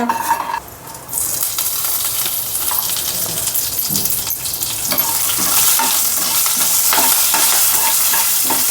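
Cumin seeds and curry leaves frying in hot oil for a Marathi pigeon-pea pod aamti, a loud, continuous sizzle and crackle with occasional stirring clinks of a utensil against the pan.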